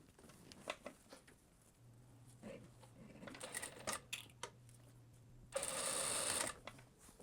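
A sewing machine stitches the shoulder seams of a blouse lining in short, quiet runs of rapid clatter between soft handling sounds, ending in one louder, buzzier burst.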